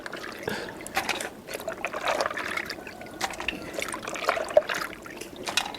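Water trickles and splashes steadily while ingredients for aşure, a Turkish wheat-and-legume pudding, are rinsed in a home kitchen, with small clinks of handling mixed in.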